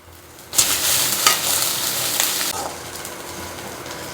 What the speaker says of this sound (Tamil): கட் பண்ணி வச்சுருக்க வெங்காயம் போட்டு ஆனியன் ஆட் பண்ணி வதக்கிக்கலாம்